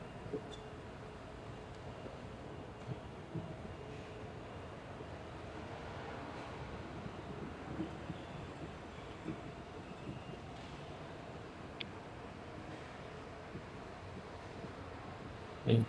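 Ambience on a Singapore MRT station platform while waiting for a train: a steady, fairly quiet low rumble and hum with faint distant clanks, no voices.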